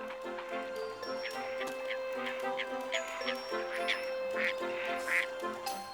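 Ducks quacking on Arctic ice, a run of repeated nasal quacks at close-to-mid distance, irregular and overlapping, with a steady faint tone underneath.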